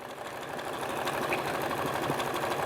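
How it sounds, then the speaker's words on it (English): A sewing machine runs a steady zigzag stitch across a flannel pennant and ribbon, making a continuous close whirring rattle at an even pace with no pauses. "keeping that ribbon inside the layer, I'm just going to zigzag right on across"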